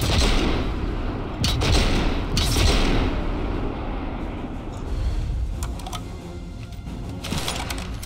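Sniper rifle shots in a survival-mode shooter game, fired from far off: four or five booming, broadband reports spaced a second or two apart over a steady rumbling background.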